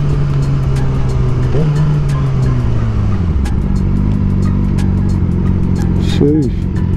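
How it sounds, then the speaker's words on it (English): A Chevrolet Camaro ZL1 engine rumbles loudly and close, its pitch rising and dropping through revs and shifts, with people talking over the steady drone. "look at this ZL1 right here."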